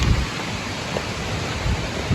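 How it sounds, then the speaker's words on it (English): Rain falls outside a church on a wet day, a steady broadband hiss with windy low rumbles and a few soft bumps, no voices. "Heading from church in the rain."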